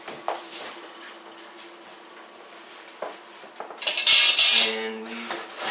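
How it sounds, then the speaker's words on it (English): A metal oven rack is pulled out and a pan of sweet and sour chicken goes into a home oven: light metallic taps and scrapes, then a loud burst of clanging, rattling metal near the end. "We want to go ahead and take out the middle rack. We only want the one on the bottom. So we just put that in there."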